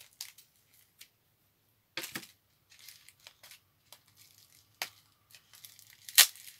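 Scattered short snips and crinkly paper sounds in a quiet room, irregular bursts with a few sharper cuts, no talking.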